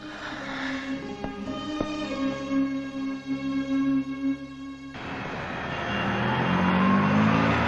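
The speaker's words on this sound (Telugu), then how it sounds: "వెనకాల లారీ రావడం కూడా తెలియకుండా అంత పరాగ్గా వెళ్తున్నారు" A lorry comes up from behind along a road, its engine a steady drone that grows louder and rougher as it closes in.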